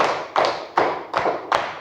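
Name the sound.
hands clapping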